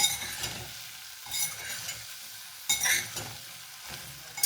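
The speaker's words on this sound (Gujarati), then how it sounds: "ભીંડા મિક્સ કરી દઈએ બધા" Okra stirred in a pan, a few scraping strokes with brief sizzling bursts at irregular intervals, close and moderately quiet with no talking.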